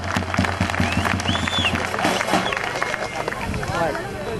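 Rhythmic clapping from a crowd at a lively auction, quick, even claps near the start that thin out beneath busy overlapping chatter and voices for the rest of the moment.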